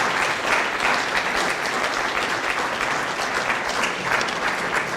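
A lecture audience gives steady, dense applause after a civil engineering talk, continuous clapping from many hands filling the room at a fairly loud level without pause.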